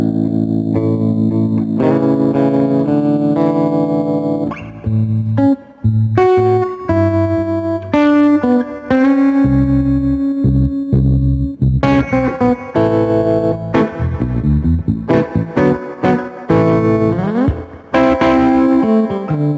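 Electric guitar played through an amp with tremolo and reverb, ringing chords and single notes with a pulsing, wet shimmer, loud and steady throughout with brief pauses between phrases.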